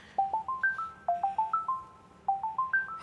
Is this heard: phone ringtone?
yes